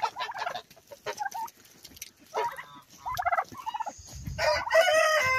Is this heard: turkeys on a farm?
yes